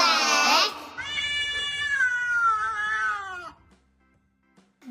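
A cat meows loudly and close by, one long drawn-out call followed by a second stretched, wavering meow, then silence.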